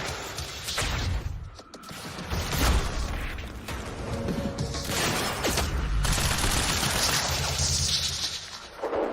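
Gunfire rattles through a video game firefight, sustained bursts and scattered shots with booming impacts layered into a dense, loud, continuous battle din.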